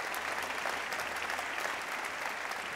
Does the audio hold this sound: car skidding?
no